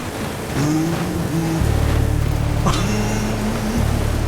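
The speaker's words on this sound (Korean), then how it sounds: "하지만 디펜더로는 폭포를 이겨내고 한번 달려" Land Rover Defender driving up through a waterfall on an off-road hillside, its engine rumbling loud and steady under rushing water, with rising revs and a brief squeak midway.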